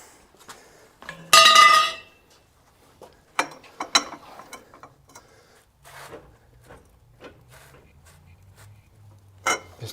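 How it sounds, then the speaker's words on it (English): A loose screw being tightened back up on a 1957 BMW Isetta: scattered close metallic clicks, ratcheting ticks and clinks with a loud burst of rattling early on, separated by quiet gaps. "Just tightening it back up."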